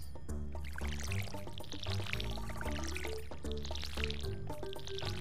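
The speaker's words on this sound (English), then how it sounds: "So we're gonna water our crops." Splashy pouring and dripping of water from a watering can onto crops in the Stardew Valley video game, with repeated wet spatters under steady game music and no talking.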